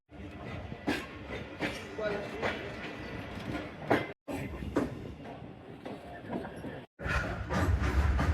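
A train pulls away from Badomali railway station on a branch line in Pakistan's Narowal section, with rolling clatter of wheels and wagons and repeated knocks over the rails, mixed with voices and brief cuts in the sound.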